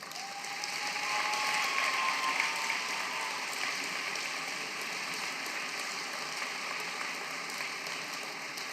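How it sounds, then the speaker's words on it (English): Steady applause from a large crowd at a graduation ceremony, dense clapping that swells slightly in the first seconds and then holds evenly to the end, with no voices over it. "So give them a big round of applause."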